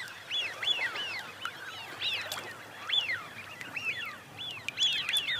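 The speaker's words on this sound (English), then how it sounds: "for these Eurasian widgeons, it's time to replenish their reserves after a long journey" A flock of Eurasian wigeons whistling repeatedly at Chilika Lake, Odisha, sharp rising-and-falling calls overlapping at close to moderate distance over quiet background.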